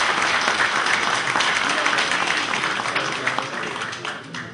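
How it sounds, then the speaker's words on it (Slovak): Audience applauding a parliamentary candidate at a political rally, a dense, steady roar of many hands clapping that holds loud throughout and eases slightly at the end. "Ja vas molim da jedni aplauzom pozdravite još jednog kandidata za poslanika."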